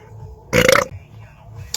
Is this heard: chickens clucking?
no